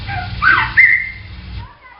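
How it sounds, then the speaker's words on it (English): A recorded whistle attributed to Bigfoot: a rising then sustained high whistle, sounding twice in close succession over a low background rumble, moderately loud and slightly distant, with no talk. "This is a whistle."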